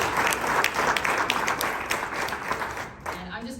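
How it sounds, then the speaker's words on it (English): Audience applause for a group of kids at a talk by an Olympic swimmer, a dense wash of clapping across the whole stretch that thins slightly near the end. "let's give a round of applause for these kids."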